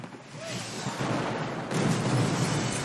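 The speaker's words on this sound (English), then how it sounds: "Let's look at some of the explosions." Explosions in a PlayStation 5 video game, a series of loud, continuous booming blasts and rumbling that build in waves across the moment, with no talking.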